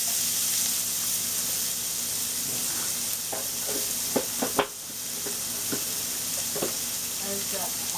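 Chopped onion sizzles steadily in a pan with roasted cumin seeds and asafoetida: an even, close frying hiss throughout, broken by a few sharp stirring clicks and pops near the middle.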